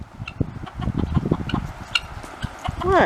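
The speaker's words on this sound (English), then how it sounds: "So we got the chickens in here after Bill mowed." Several chickens cluck and murmur nearby in a busy, uneven patter, with one rising squawk near the end.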